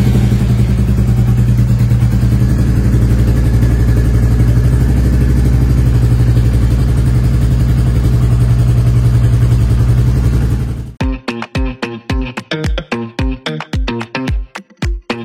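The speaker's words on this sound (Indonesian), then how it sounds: "Langsung aja kita dengar suara knalpot dari Classic 350 Royal Enfield." A Royal Enfield Classic 350 motorcycle exhaust runs at a steady, loud idle thump for about eleven seconds, then breaks into a series of sharp, rhythmic blips and revs, close up with no talking.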